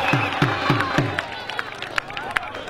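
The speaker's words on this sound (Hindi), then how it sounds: "जोरदार तालियां" Crowd at a village kabaddi match in Punjab breaking into scattered clapping and cheering, a commentator's voice cutting through at the start over the busy outdoor hubbub.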